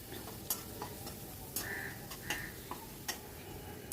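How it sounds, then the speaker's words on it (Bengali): Spice masala being stirred in a pan over a low flame, with a soft, quiet sizzle broken by a regular series of sharp spoon taps and scrapes against the pan, roughly every half second. "মশলাটা ভালো করে কষিয়ে নেব।"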